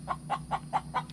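Chickens in the main flock cluck in a quick, regular series of five short notes, close and fairly soft, over a low steady background hum.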